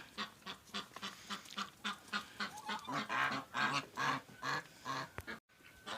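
Farmyard geese honk in a rapid, irregular series of loud, nasal calls close by, some overlapping, before a brief cutoff near the end.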